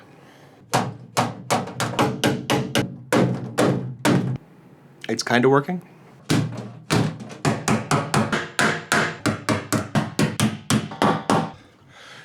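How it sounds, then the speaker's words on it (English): Hammering dents out of a damaged metal storage box: a rapid series of loud, sharp metallic thuds in bursts, pausing briefly while someone speaks, then resuming in a steady, quick rhythm. "I am gonna see if I can hammer the dents out real quick"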